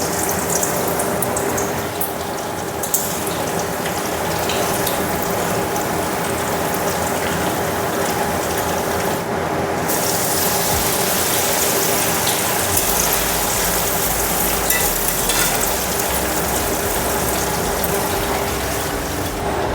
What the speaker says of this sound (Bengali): আমি এদিকে কড়াইয়ে তেল বসাই দিয়েছি, তেলটা গরম হয়ে গেছে। আমি এখন কলাটাকে ছেড়ে দিচ্ছি।